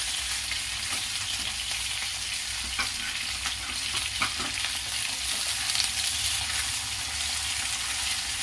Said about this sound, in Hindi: और गाजर डाल दूंगी। शिमला मिर्च, मटर बाद में डालूंगी। इसे अच्छी तरह फ्राई करूंगी।